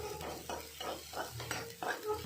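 Turmeric, chili powder and homemade red masala are stirred into a pan while cooking dried bombil fish: a spoon scrapes in repeated rhythmic strokes, with light sizzling underneath and a few soft metallic clinks, close and moderately loud.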